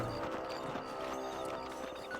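Horse hooves in Red Dead Redemption clip-clop in a steady trotting rhythm over a busy background of music and ambient sound, moderately loud throughout.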